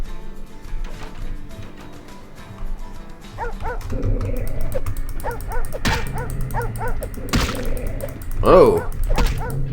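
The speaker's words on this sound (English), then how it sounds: "big dog." A big dog in Vampire the Masquerade Bloodlines barks in a rapid run of harsh woofs with yips and a whimper. The barks come loud and close, and a player briefly speaks over the game.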